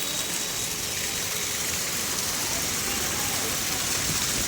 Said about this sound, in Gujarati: અહીંયાથી મિત્રો પાણી બહાર પણ નીકળી રહ્યું છે